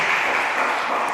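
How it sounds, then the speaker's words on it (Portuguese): A church congregation applauds, a dense steady wash of many hands clapping at once throughout. "Vamos aplaudir o Senhor."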